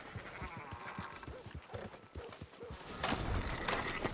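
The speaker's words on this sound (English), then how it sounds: "Hey, fine sheep." Sheep bleating amid rhythmic hoof clip-clops and horse sounds in an open-world Western video game, the bleats rising toward the end over a steady outdoor backdrop.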